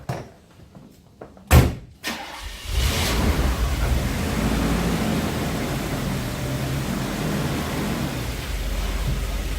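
A Mercedes-Benz 560SL on a test drive after new shocks: a door thunks shut, then a steady, broadband road and engine rush builds and holds from inside the cabin.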